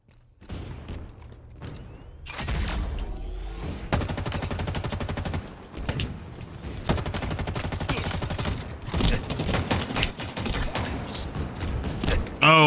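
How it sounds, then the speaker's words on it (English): Gunfire and explosive blasts from rockets fired in the Halo Infinite video game, a dense, loud, continuous barrage of shots and booms running through most of the stretch. "Oh, they're shooting rockets at me."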